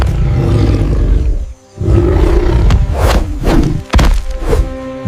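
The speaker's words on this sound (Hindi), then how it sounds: "वो खाली हवा पर गुर्रा रहा था।" A creature growls in a forest, with deep, loud roaring rumbles in close bursts, a brief pause and a few heavy thuds.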